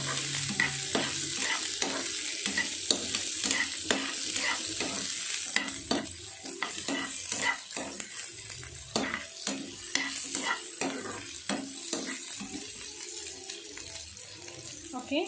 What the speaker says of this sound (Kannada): ಆನಿಯನ್ ಹಾಕ್ಕೊಂಡು ಸ್ವಲ್ಪ ಲೈಟಾಗಿ ಫ್ರೈ ಮಾಡ್ಕೊಳ್ಳೋಣ.